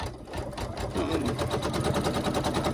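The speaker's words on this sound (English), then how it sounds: "it's going to do a placement stitch" A sewing machine runs a placement stitch on a gnome hat appliqué, a steady fast mechanical whirring with an even rhythmic needle beat, close and continuous throughout.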